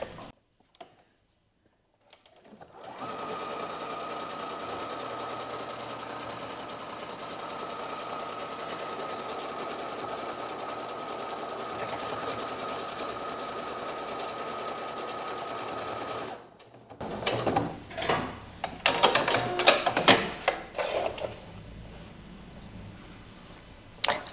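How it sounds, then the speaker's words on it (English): A sewing machine stitches a buttonhole on a button-up blouse with a steady rapid whirring for about fourteen seconds after a quiet start, then stops, followed by a few short bursts and clicks as the fabric is handled. "I lowered my foot and now I just start sewing."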